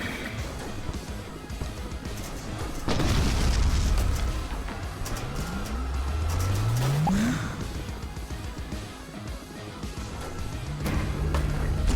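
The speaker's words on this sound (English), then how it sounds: "The missiles were slowly cooking up Jeffrey, though." Missiles explode against a giant kaiju in a VR video game, heavy booms and rumbling blasts building over several seconds with sweeping rising tones, loud and dense with no speech.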